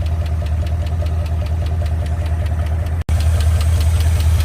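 A steady, rapid mechanical ticking over a low idling Ford Pinto engine rumble, unchanging throughout, with one brief dropout near the end.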